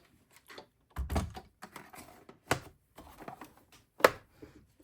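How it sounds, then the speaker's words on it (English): A paper butterfly is fed through a die cut machine that embosses and cuts it, giving a series of sharp clicks and hollow thunks at uneven intervals. The loudest knock comes near the end, and no one speaks. "Now this is going to emboss and cut that butterfly out all at the same time"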